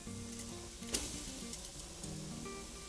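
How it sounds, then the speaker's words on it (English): Seasoned meat cooking at a poolside barbecue, giving a soft, steady sizzle with a brief sharp crackle near the start, quiet and without talk. "You hear that sizzle?"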